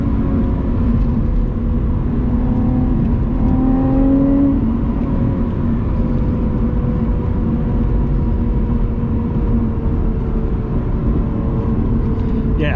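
A steady, loud engine drone with a brief rise in pitch, a Lotus Evora GT mid-engine sports car running and revving, heard from inside the car.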